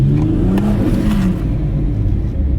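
BMW M140i fitted with an Eventuri intake, its engine revving with a loud, warbling whoosh and whistling intake whir close by, a continuous rising-and-falling spaceship-like drone.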